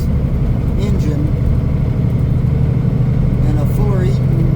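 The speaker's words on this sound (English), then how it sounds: "this truck's got an X15 Cummins engine" A truck with an X15 Cummins engine runs on the road, giving a loud, steady low drone and rumble throughout, with someone talking over it.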